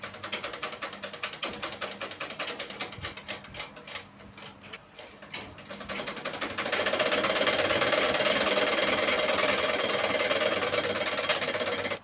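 A sewing machine runs steadily while stitching double seams on a beaded blouse front, its mechanical whir picking up after a slower, uneven start and holding loud and continuous for the latter half.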